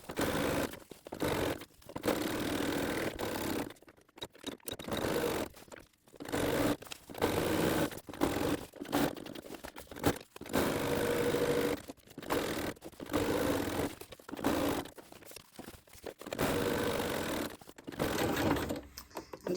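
A sewing machine stitches fabric for a made-to-measure dog coat, running in short bursts of rapid mechanical whirring separated by brief pauses as the work is pivoted, fairly quiet and close.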